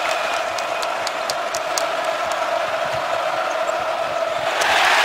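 A basketball arena crowd in a college game roars steadily after a Wisconsin three-pointer, a dense sustained cheer with scattered whoops that swells louder near the end.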